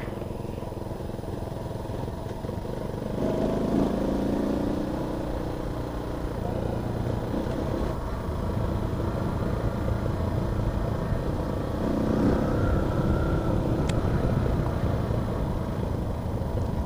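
Rusi Flash 150 motorcycle ridden on a road test, a steady, fairly loud engine drone with wind rush running throughout, swelling slightly at moments, with no talk.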